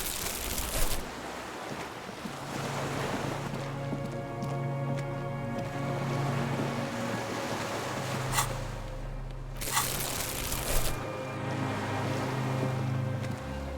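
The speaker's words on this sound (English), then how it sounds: "The skiff is swaying on the waves by the dock." Water laps against a small skiff by a dock in the video game Disco Elysium, a soft ambient wash of waves with gentle creaks and low tonal hum, fairly quiet and continuous.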